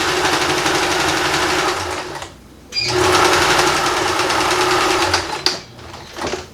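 A sewing machine running a straight stitch through recycled denim jeans, a close, loud, fast mechanical whir in two long runs broken by a brief pause, then a short final burst.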